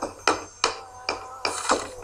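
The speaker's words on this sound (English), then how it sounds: "Let's get hammering, people." Hammering on barricades in the State of Decay video game: five sharp, close knocks at uneven intervals over about two seconds, with no voices.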